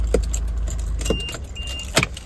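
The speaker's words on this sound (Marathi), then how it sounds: "गाडी बंद करतो." A car being switched off: a low engine rumble cuts out partway through, amid a few bright jingles of keys, close by and without speech.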